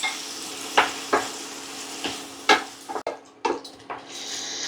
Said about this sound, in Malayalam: നമ്മുടെ ടൊമാറ്റോ തക്കാളി വെന്ത് തുടങ്ങിയിട്ടുണ്ട്.